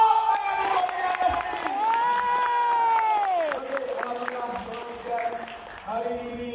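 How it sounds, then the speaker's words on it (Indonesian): An audience at a Malaysian motivational ceremony claps and cheers in a loud, sustained burst, with whoops and shouting voices over the applause throughout. "Sekarang ni sekali lagi tepuk tangan untuk diri anda"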